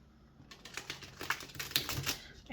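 Tarot cards being shuffled by hand during an unboxing, a quick run of soft crisp flutters and light taps, close and fairly quiet.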